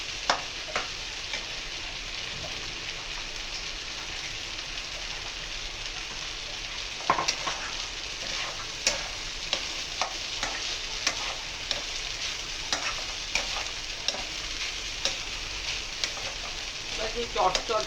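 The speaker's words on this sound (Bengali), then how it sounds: "এখন যখন জলটা শুকিয়ে গিয়ে এই একটু চিকচিক চিকচিক আওয়াজ হচ্ছে রাইসটার" Rice cooking in a wok (kadai) for paneer pulao, its water drying off into a soft, steady crackling sizzle with faint stirring scrapes and sharper ticks building in the second half.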